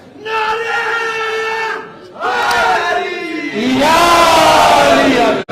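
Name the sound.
crowd shouting a religious slogan (nara)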